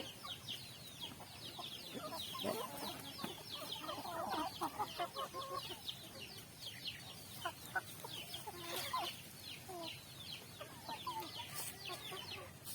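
Native chickens in a backyard coop cluck softly and steadily at a distance, with scattered calls and clucks rising and falling over a quiet background.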